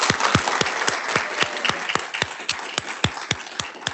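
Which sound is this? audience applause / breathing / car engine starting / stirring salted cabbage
audience applause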